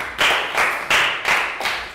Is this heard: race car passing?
no